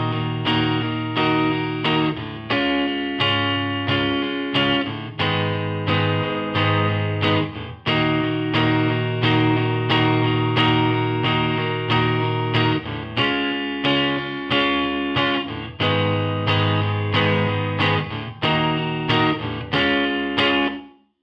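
Electric guitar strums Northern Soul chorus chords over eight bars, played through effects with distortion and chorus, steady rhythmic strokes ringing loud and close without talk.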